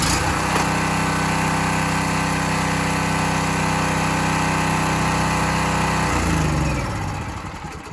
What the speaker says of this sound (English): It's awful noisy, but when it's going to be used for electricity, most generators are just going to be, in some ways, a little bit loud.